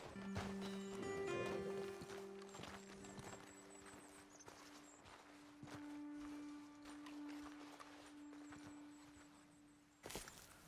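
Horse hooves clop steadily in Red Dead Redemption 2 as riders slow and halt, with a steady hum, faint tonal music and a sharp closing thump near the end.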